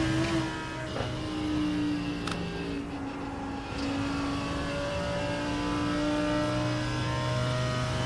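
Race car engine in an endurance racing video game revs high, a sustained tonal drone rising and falling slightly as it holds speed, loud and continuous without speech.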